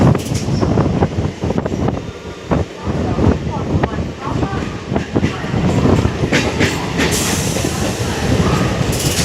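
A passenger train runs on rails on a local line near Belur, with a loud continuous rumble and rattling wheel clatter heard close from inside, and occasional voices in the background.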